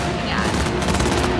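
Rapid automatic gunfire in the video game Cyberpunk 2077 during a street shootout involving police, a dense, loud clatter of shots throughout.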